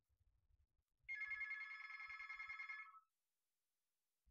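A telephone rings in one continuous burst of about two seconds, loud and clear against an otherwise quiet room with faint low thumps before it.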